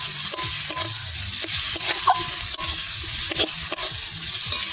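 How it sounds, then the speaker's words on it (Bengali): Ginger garlic paste fries with tomatoes in a pan, a steady sizzle broken by repeated scraping strokes of a spoon stirring, close and without talk. "একটু নেড়ে ছেড়ে নেব।"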